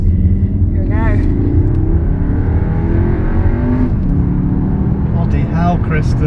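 A Cupra Formentor accelerates hard, its engine note climbing steadily in pitch from inside the cabin while occupants talk over the loud, continuous drone.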